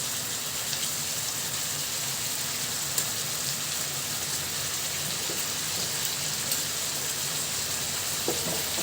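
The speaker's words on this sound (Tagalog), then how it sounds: "Parang ipiprito natin siya muna ng bahagya. Dito sa ibabaw ng ating luya at bawang." Chicken pieces frying in a pan over ginger and garlic, a loud, steady close-up sizzle with occasional soft stirring clicks and no voices.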